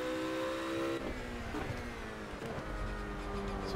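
A Ruf RGT-8 GT3 in the Project Cars video game revs hard, its engine tone breaking at gear shifts around one, one and a half and two and a half seconds, loud and close throughout.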